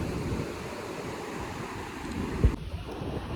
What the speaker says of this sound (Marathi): सकाळ सकाळ समुद्राचे भाई आवाज कानावर